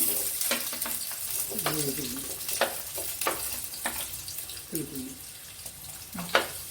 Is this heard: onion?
yes